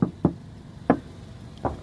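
Knuckles rap on the body panel of a used car, checked for hidden filler: four sharp, hollow knocks, close and distinct, with short irregular gaps between them and no voices.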